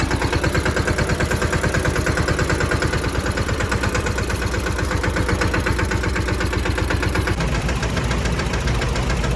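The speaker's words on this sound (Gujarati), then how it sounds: "બે ટ્રેક્ટર ભરોટી હારવામાં કરી દીધા ને અહીંયા થ્રેસર હાલે" A tractor-driven thresher runs on a farm during the groundnut harvest, a loud, close, continuous engine drone with rapid rhythmic knocking and mechanical vibration throughout, shifting slightly near the end.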